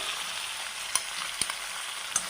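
Small onions and sliced large onion sautéing in a pan with green chilli, ginger and garlic for a bitter gourd masala, a steady soft sizzle broken by three sharp spatula clicks, no talking.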